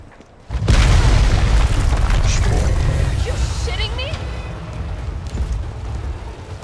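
Grenade blast in the video game Resident Evil 3 Remake, a sudden loud boom followed by a long rumbling decay, with an excited voice talking over it.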